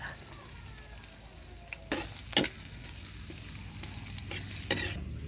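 Garlic and ginger fry in a pan while being stirred for a snail dish, with a soft steady sizzle and a few sharp scrapes and clatters from the utensil.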